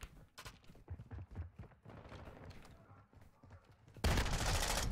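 Gunfire in the video game Modern Warfare 2: scattered shots and short bursts crackle and thud, then a dense, loud volley of rapid fire erupts near the end.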